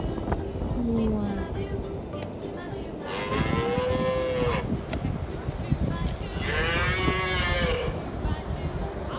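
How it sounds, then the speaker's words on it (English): A cow lows twice in long, drawn-out moos, each a few seconds apart, loud and close over a steady outdoor background. "cow"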